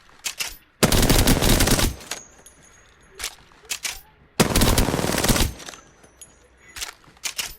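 Two long, loud bursts of hip-fire automatic gunshots in the video game Apex Legends, each about a second long, separated by quieter single shots, clicks and movement sounds.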